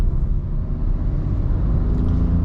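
Car with a 1.0-litre naturally aspirated engine climbing a steep hill in city traffic in İzmit, giving a steady low engine rumble with no talk.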